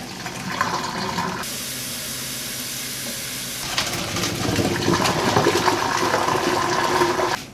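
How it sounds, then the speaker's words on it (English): Lemon peels are rinsed and boiled in water in a kitchen. A steady rush of running or bubbling water breaks off briefly, then returns and grows slightly louder, with no talking. "So that was the last rinse and boil."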